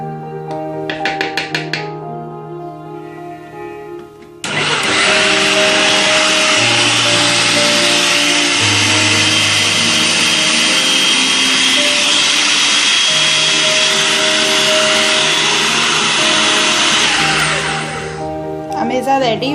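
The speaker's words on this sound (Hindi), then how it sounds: "अब इस सारे अमेज़े को चॉपर में डालेंगे।" An electric chopper whirs loudly and steadily as it blends a fish kebab mixture with coriander powder and egg white. The motor runs for about thirteen seconds without a break after a short lead-in with a voice, then winds down.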